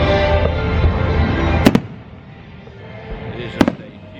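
Fireworks show at Epcot, Walt Disney World, heard at night as a rumbling roar of bursts with two sharp, loud cracks about two seconds apart, under faint crowd noise.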